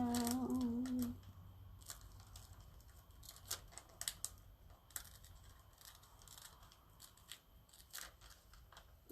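Scissors cut around a boot pattern with quick, close snips and soft crisp clicks in an irregular rhythm, alone in a quiet room.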